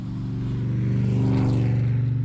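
The engine of a 1960s Mercedes 230 S, a W111 Fintail, revs close by, its rising, pulsing growl swelling over about two seconds before easing slightly.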